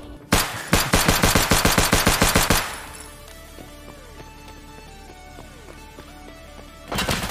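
Submachine gun fire in a video game: a rapid loud burst of about a dozen evenly spaced shots, then quiet game ambience with small electronic blips, and another shot at the end.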